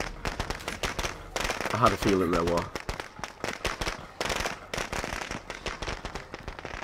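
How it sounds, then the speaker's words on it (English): Firecracker bursts crackle in rapid sharp pops thrown in State of Decay 2, interleaved with someone talking over the loud scattered bangs. "I'm gonna throw this firecracker."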